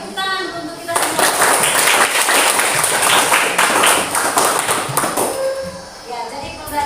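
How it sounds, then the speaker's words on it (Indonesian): Classroom applause from students at the close of a civics lesson, brisk clapping that builds after a short lead-in and carries on steadily, close and fairly loud, with children's voices mixed in. "Oke, tepuk tangan untuk kita semua."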